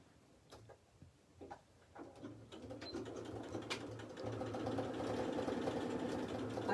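A sewing machine stitches a doll's cat, starting as scattered ticks and clicks, then running into a steady, fairly quiet mechanical whir that grows louder.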